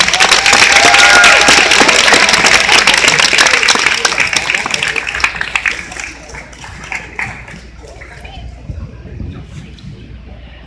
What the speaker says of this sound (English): Give a big hand clap.